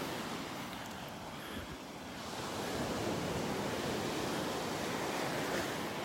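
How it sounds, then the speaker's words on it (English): Ocean waves break on a beach in North Naples, Florida. A broad, steady rush of surf swells louder partway through and stays full, with some wind noise and no voices. "Might have something to do with the trees and the waves breaking in here."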